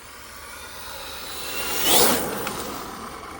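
An Arrma Mojave 6s RC car races across tarmac, its high-pitched motor whine rising as it passes close by and then fading as it moves away, over steady outdoor background noise, with no speech.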